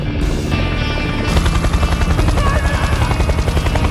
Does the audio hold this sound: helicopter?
yes